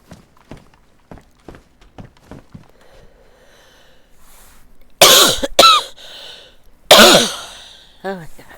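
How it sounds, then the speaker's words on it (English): A person coughing repeatedly while playing DayZ, starting with soft scattered coughs and throat sounds, then two loud harsh coughing fits close to the mic, ending with a wheezy gasp. "Oh my God, I'm so tired of coughing"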